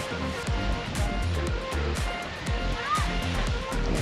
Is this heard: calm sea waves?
yes